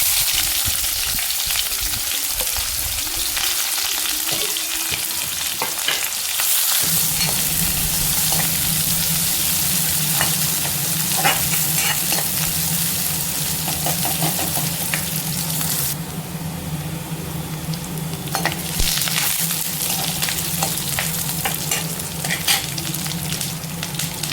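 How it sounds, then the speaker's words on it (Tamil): Okra tempering in hot oil with mustard seeds, urad dal and onion gives a loud, close, continuous sizzle and crackle, growing fuller partway through, with light stirring scrapes throughout. "வெண்டைக்காயை தாளிச்சிக்கலாம். கடுகு, உளுத்தம்பருப்பு,"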